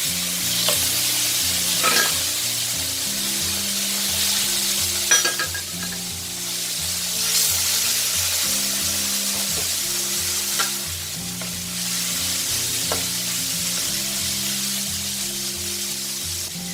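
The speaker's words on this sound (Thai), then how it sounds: "เมื่อแป้งแตกตัวแล้วนะคะ ใส่ลงไปทอดเลยค่ะ" Battered pork leg deep-fries in oil over medium-to-high heat, a loud, sustained bubbling sizzle with occasional louder crackles and a low pulsing hum underneath, heard up close without speech.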